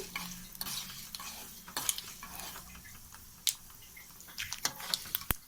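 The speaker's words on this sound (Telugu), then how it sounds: "చూసారా, మినపప్పు కూడా కొంచెం బాగా వేగిపోతుంది" Urad dal fries in a pan for a raw vegetable chutney, a soft steady sizzle broken by scattered stirring scrapes and light metallic clinks, quiet and close with no voices.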